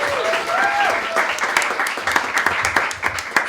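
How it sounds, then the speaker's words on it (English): Loud, close applause from a panel event audience, dense sharp hand claps throughout, with a faint tonal voice-like sound sliding briefly at the start. "One more round of applause."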